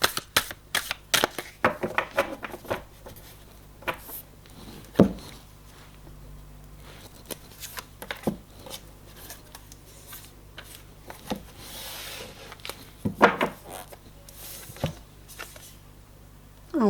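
Tarot cards cut and shuffled by hand during a reading, a series of close, crisp riffling and slapping bursts with quieter rustling between them and no talk over them.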